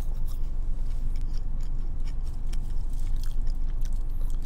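Someone chews a dry, flaky ube Napoleon pastry from a bakery, a continuous close crunching and crackling with brisk, uneven bites and no talk.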